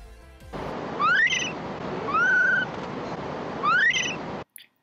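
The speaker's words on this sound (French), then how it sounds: "voici le son d'un bébé macaque japonais." A baby Japanese macaque, a snow monkey, gives three rising squealing calls with bright overtones, the middle one a longer level whine, heard close and clear over a steady hiss of background noise.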